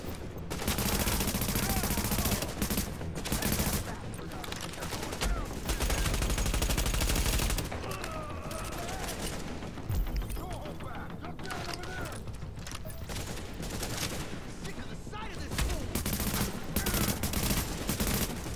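Bursts of gunfire from a video game, with rapid volleys and machine-gun fire sounding loud and nearly continuous, while someone talks over much of the action.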